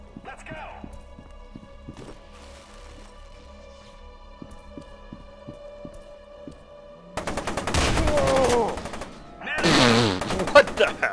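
Rapid gunfire bursts from the shooter game F.E.A.R. 2 erupt loudly after a stretch of quieter rhythmic ticking and game ambience, with heavy clustered shots and echoing blasts near the end.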